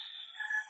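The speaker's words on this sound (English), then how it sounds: "Don't know if you can hear that crazy rooster outside my window." A rooster crows outside a window, a drawn-out, strained call of under a second that rises in the middle and sits alone with no talk over it.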